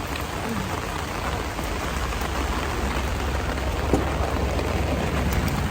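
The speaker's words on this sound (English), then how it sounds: "a lot of rain." Heavy rain pouring down in Costa Rica, a dense, steady hiss of drops drumming on surfaces, loud and continuous with no talking.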